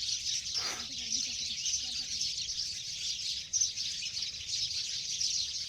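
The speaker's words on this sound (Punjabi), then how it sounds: "ਸਵੇਰੇ ਸਵੇਰੇ ਚਿੜੀਆਂ ਦੀ ਕਿੱਡੀ ਸੋਹਣੀ ਆਵਾਜ਼ ਲੱਗਦੀ ਹੈ ਨਾ" Sparrows chirp continuously at a high pitch in the background, a steady dawn chorus, with a brief low voice near the start.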